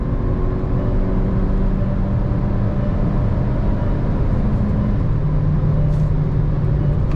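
A Hyundai Creta N-Line with a manual gearbox pulls hard in third gear, its engine a steady loud drone of cabin road and motor noise with no voices.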